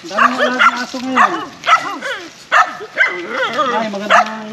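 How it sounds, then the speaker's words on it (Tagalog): Several dogs kept beside a makeshift shack yip, whine and bark in short bursts, close and fairly loud, with people talking over them. "Dami mo alaga na aso ngayon."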